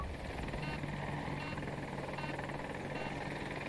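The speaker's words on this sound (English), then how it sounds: "Helicopter?" An attack helicopter in Battlefield 2042 gives a continuous rotor thrum and engine drone, steady and prominent throughout, with no voices over it.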